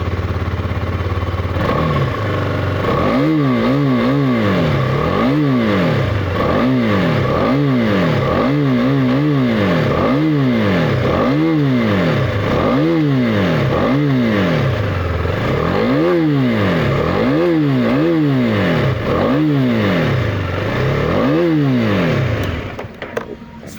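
Husqvarna Vitpilen 250 motorcycle engine revved repeatedly at standstill, a loud close single-cylinder rising and falling in about a dozen regular throttle blips over a steady idle, cutting off at the end.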